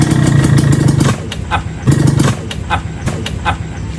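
A manual car engine with a clutch catches and idles with a low, throbbing rumble, then rises in two short surges as it is revved while a driver is taught to use the gears, mechanical clicks and clatter between.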